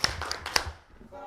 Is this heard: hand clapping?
yes